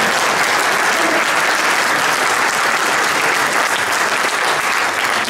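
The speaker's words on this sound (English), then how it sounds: "Give the Lord a hand clap." Church congregation clapping hands during a sermon, a loud, dense and continuous roar of many claps filling the room without letup.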